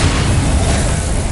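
An Incendio fire spell in the video game Hogwarts Legacy, a short, loud and deep burst with a roaring, crackling blast that holds steady for about a second.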